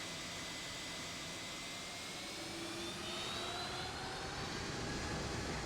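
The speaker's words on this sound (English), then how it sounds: "Just want to spool those engines up" Boeing 757-200 jet engines spooling up in the X-Plane 11 flight simulator, a steady dense roar with thin rising whine tones that slowly build in loudness, with no voices.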